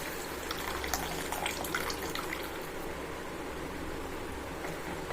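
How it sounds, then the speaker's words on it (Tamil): Tamarind water pouring into a pan of fish curry (vaala meen kuzhambu), a steady close liquid splash and trickle with faint drips running throughout. "புளி தண்ணியை அதில் அப்படியே சேர்த்துக்கலாம்."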